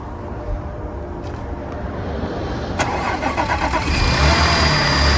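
An Audi S5 engine cranks and catches, then settles into a fairly quiet, steady idle that grows slightly louder toward the end.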